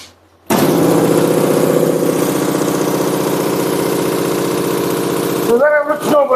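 A machine that produces bee candy (fondant) switches on abruptly and runs with a loud, steady mechanical drone and fluttering vibration, then changes pitch and stutters near the end.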